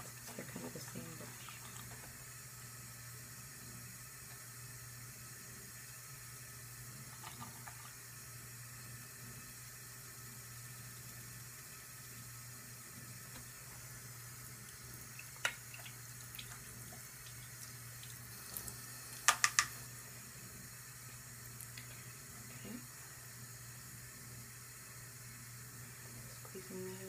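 Running tap water streams steadily into a sink while makeup brushes are washed, a quiet continuous hiss with a few brief clicks and knocks near the end.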